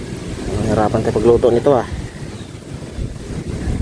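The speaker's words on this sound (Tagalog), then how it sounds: "Sobrang lakas ng hangin." Strong wind on a mountain roars and buffets against the microphone throughout, a close, gusty rumble while a person talks over it partway through.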